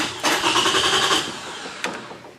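A stock 2004 Toyota Camry is started with a jumper wired to the starter, giving a brief close cranking burst that catches into a short engine rumble before a second small click.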